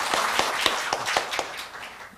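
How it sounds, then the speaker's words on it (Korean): Scattered audience clapping at a Korean political forum, a handful of distinct claps at an uneven pace over a soft room hiss, with no voices. "수고해 주신 정의아 의장님께 큰 박수 다시 한번 부탁드리겠습니다."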